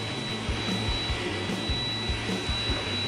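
Two robot vacuums, a EUFY Robovac 11 and a Roomba 980, run on a floor scattered with rice, giving a steady whirring hum with a thin high whine and soft rhythmic bumps close by.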